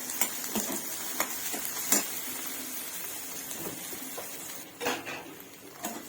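Steady sizzling of green chili and garlic frying in a hot pan, with occasional clinks and scrapes of a utensil stirring.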